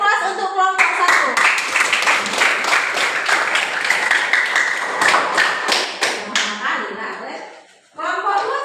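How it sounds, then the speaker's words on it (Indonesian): Classroom applause for a student group, a burst of many hands clapping close by for several seconds in a school room, dense and steady before tapering off, with children's voices faintly under it. "Beri aplaus untuk kelompok 1."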